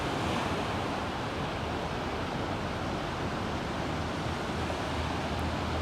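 Ocean surf rolls in at Cox's Bazar beach, a steady, dense wash of breaking waves with wind buffeting the microphone, continuous and fairly loud without pauses.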